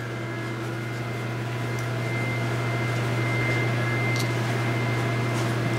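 A T800.1 buckle folder with an 880 smart stacker runs at a trade-show demo, giving a steady, loud mechanical hum with a deep droning tone and faint whirring throughout, with no talking.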